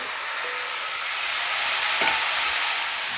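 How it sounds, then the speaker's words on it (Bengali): Spices and vegetables with drumsticks fry in a pan for a drumstick curry, a steady dense sizzle with a faint hiss, close and continuous, without talk. "আমি একটু ঢাকা দিয়ে দেবো, সব মশলাগুলো ভাজা ভাজা হোক।"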